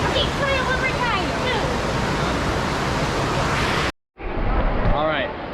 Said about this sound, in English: We are at the entrance to the waterfall.